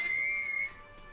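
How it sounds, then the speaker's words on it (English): A high, thin screech from a Kvalson harbor crane in the video game Disco Elysium rings as a sustained whistle-like tone for over half a second, then fades into low machine hum and static. "That's the sound of a Kvalson crane."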